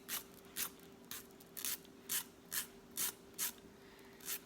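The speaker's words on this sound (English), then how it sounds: "So at 90 degree, we're going to file straight down." A nail file rasps straight down across the edge of a fingernail to take off excess nail wrap, in about nine steady, evenly spaced strokes that sound close and clear with no talking.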